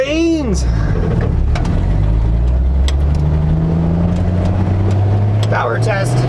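A 1960 Ford F100 truck engine pulls away loud and close, its low rumble climbing steadily in pitch as it accelerates, with a brief whoosh at the start.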